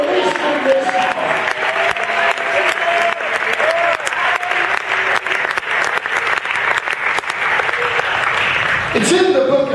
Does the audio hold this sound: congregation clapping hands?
yes